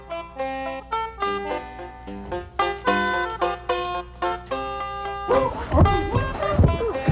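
A dog barks in the Lightspan Write Away game: several bright, yappy cartoon barks in quick bursts that rise over a plinking musical background, with a busier jumble of sound toward the end.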